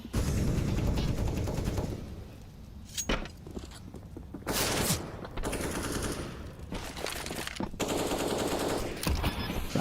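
Counter-Strike gunfire on the Vertigo map during a professional IEM Cologne 2023 match: loud rapid automatic bursts and single shots, repeated with brief lulls throughout.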